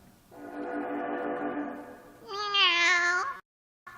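A cat meows twice up close, first with a long, steady, mid-pitched cry and then a louder, higher, wavering yowl, followed by a brief silence.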